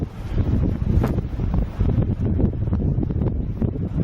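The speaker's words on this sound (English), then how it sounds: "they said it was going to get windy after the storm" Strong wind buffets the microphone on a snowy winter lake after a storm, a loud, continuous low rumbling roar with gusty surges throughout, no voices.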